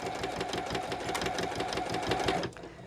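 A sewing machine back stitches through a bulky vinyl project bag seam, a rapid steady mechanical clatter of the needle close by that stops abruptly near the end.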